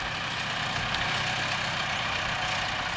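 Tractor engine running steadily on a farm while a front spike lifts a hay bale, a dense continuous drone heard close with no pauses or speech.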